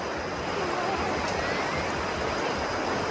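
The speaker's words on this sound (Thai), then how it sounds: "โอ้โหน้ำแรงมากเลย" Strong water flow of Ta Yai waterfall at Khlong Maduea in Nakhon Nayok, a dense, loud, continuous roar that stays steady throughout.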